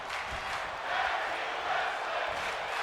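Wrestling video game crowd cheering and roaring during a pin attempt in a title-belt match, a sustained wash of crowd noise that swells in waves, loud and continuous with no clear talk over it.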